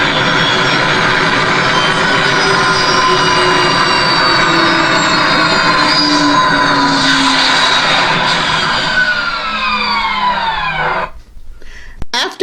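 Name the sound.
aircraft landing sound effect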